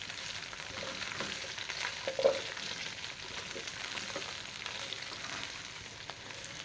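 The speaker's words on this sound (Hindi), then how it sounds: "अभी इसमें मैं शिमला मिर्च और प्याज शामिल करता हूँ और 1 मिनट के लिए मैं सौते कर लेता हूँ उनको" Sliced bell pepper and onion sauté in a hot pan with fried garlic for chicken Manchurian, giving a steady, close sizzle with faint stirring scrapes and no talk.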